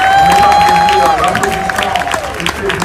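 Crowd applause honouring the first lady at a French-language public gathering, a dense steady wash of clapping and cheering over a sustained tone, loud and continuous throughout.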